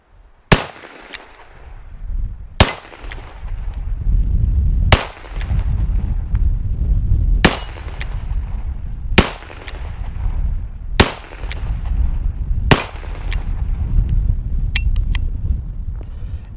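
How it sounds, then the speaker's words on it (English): Smith & Wesson 586 L-Comp seven-shot revolver firing .38 Special rounds: eight sharp, loud reports spaced about two seconds apart, then a couple of lighter clicks near the end, with a steady background rumble throughout. "Now the 38 special feels like there's no recoil at all with this thing."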